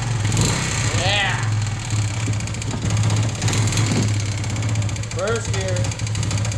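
A Kawasaki Bayou 220 ATV engine runs with a steady low rumbling idle that continues throughout, while people talk over it close by.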